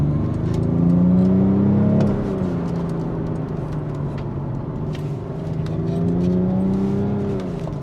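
A BMW X5 M50d (F15) diesel engine in Sport Plus mode revs loudly and close, rising and falling through two strong surges over a steady driving drone, with no talk.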